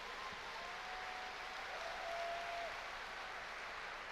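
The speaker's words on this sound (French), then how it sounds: "J'aimerais qu'on les applaudisse bien fort pour les remercier" Audience applause at Japan Expo, a steady continuous wash of clapping heard from a distance, with a faint tonal whistle running through it.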